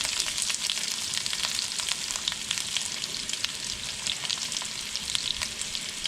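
Onions fry in hot oil with mustard seeds, producing a loud, continuous crackling sizzle with scattered popping spatters throughout, close and uninterrupted by talk.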